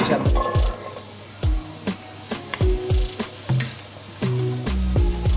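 Onions and vegetables sizzle in olive oil in a pan, a steady fry broken by repeated scraping stirs with a wooden tool, close and fairly loud.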